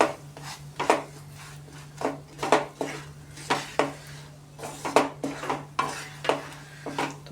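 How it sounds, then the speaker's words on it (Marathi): Raw peanuts are stirred into melted jaggery in a pan, giving a steady rhythm of close scraping and clattering strokes from a spoon against the pan, with a low hum underneath and no talking. "आता या स्टेजला आपण याच्यामध्ये शेंगदाणे घालून घेणार आहे. शेंगदाणे भाजायचे नाहीये, कच्चेच वापरणार आहे आपण याच्यामध्ये शेंगदाणे. छान मिक्स करून घेऊया."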